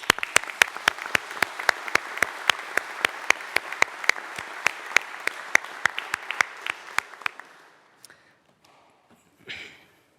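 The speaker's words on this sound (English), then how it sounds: "So please, let's give a massive round of applause." A graduation ceremony audience claps in a sharp, rhythmic series of distinct claps, close and crisp, fading out after about eight seconds, with a brief faint sound near the end.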